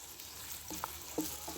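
Spices, tomato and green chillies sautéed in ghee in a pan for aloo gosht, a steady close sizzle with a few soft stirring knocks and scrapes.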